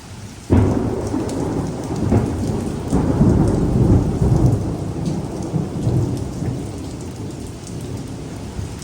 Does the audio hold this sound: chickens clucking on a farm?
no